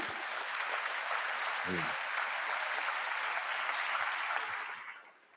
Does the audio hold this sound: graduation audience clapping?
yes